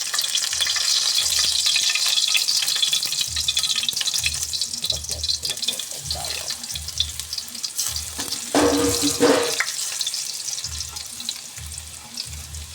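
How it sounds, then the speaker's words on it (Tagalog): Onions sauté in a hot pan, giving a continuous close sizzle broken up by repeated scraping strokes of a spatula, with a brief burst of louder clatter partway through; nobody speaks. "magigisa na po tayo ng ating sibuyas"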